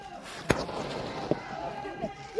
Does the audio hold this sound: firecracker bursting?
yes